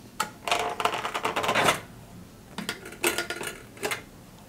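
A pressure cooker lid being opened after cooking haleem, with clattering metal knocks and rattles in two clustered bursts separated by a short pause, close and fairly loud.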